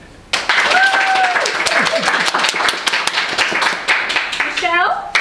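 Enthusiastic audience applause at an open mic night, dense steady clapping sustained throughout, with whoops and cheers rising above it near the end.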